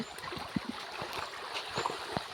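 River water flowing in a forest, a steady rushing wash with small gurgles and splashes scattered through it, fairly close and continuous, with no voices.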